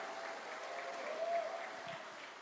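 A church congregation applauding during a Tagalog sermon, a steady even wash of many hands clapping, fairly faint and distant, with no talk over it.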